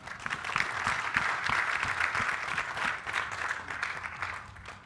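Audience applause at a world-class athletes mentor event, steady broadband clapping from a crowd, moderately loud and continuous without speech over it.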